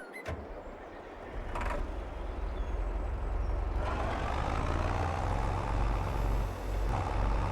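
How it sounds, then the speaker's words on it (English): A 150 horsepower tractor engine in the farming simulator game Farming Simulator 22 starts up and settles into a steady, loud low drone, with a brief hiss early on and a shift in tone midway. "But now I got a 150 horsepower tractor like we talked about."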